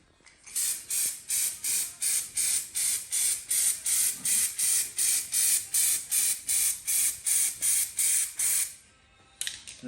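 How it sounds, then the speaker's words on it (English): A Raptor bedliner aerosol spray can from Buzzweld Paints hisses in about twenty short, evenly spaced sharp bursts while the nozzle is cleared, close and steady, ending with a pause and one last brief spurt. "just as per normal aerosol, just clear the nozzle off"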